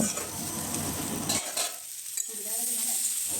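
Pointed gourd, soy chunks and potato curry hiss and crackle in a pan, with bursts of stirring and scraping, then a quieter simmer with faint clinks toward the end.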